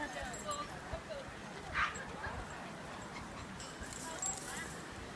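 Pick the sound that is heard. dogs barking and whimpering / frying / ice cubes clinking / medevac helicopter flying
dogs barking and whimpering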